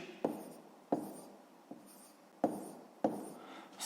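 A pen writes numbers on paper in a quiet room during a sixth-grade maths exercise, giving a few short, soft scratchy strokes separated by small pauses.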